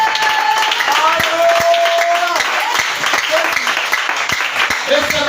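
A church congregation applauding in a loud, steady burst of clapping that lasts throughout, mixed with cheering voices and someone talking over it.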